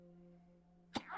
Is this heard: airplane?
no